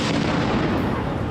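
Firecrackers thrown at police during a violent protest clash go off in a loud, dense burst of cracking blasts that roll together and then cut off abruptly.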